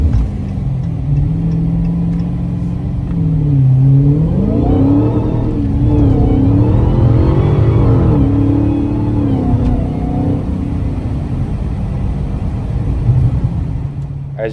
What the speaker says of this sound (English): Another brief acceleration here.